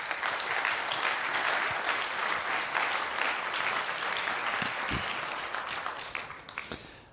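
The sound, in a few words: audience applause welcoming a conference speaker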